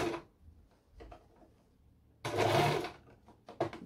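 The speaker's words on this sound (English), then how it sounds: "So you're only sewing two pieces together at a time." A sewing machine stitching two pieces of scrunchie fabric together, a short steady mechanical whir up close after a few light clicks and taps.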